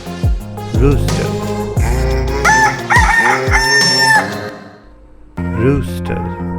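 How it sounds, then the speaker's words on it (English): A farm rooster crows several times in a row, loud and close. The cock-a-doodle-doo calls come in rising and falling bursts with short gaps between them. "Rooster."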